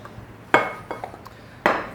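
Flour and bread ingredients are stirred in a bowl, with a few sharp utensil clinks and scrapes against the bowl at irregular intervals, close and fairly clear with no one talking.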